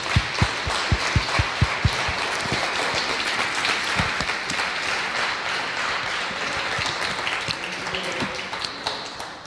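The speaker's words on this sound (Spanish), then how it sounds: "Dale un fuerte aplauso a nuestro Señor." A church congregation at a Spanish-language service gives a loud round of applause, with sharp separate claps at first that merge into sustained clapping, followed by a softer ambient murmur.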